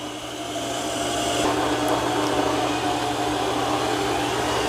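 Eufy X10 Pro Omni robot vacuum mop cleaning muddy paw prints from a floor, a steady close motor whir and broadband hiss holding without a break.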